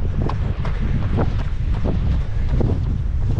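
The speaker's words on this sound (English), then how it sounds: "That whole uphill, it's about a 30-mile-an-hour headwind pushing me down." Strong gusting headwind of about 30 mph buffets the microphone during an uphill run, a loud, low, rumbling roar that swells and dips continuously with no speech.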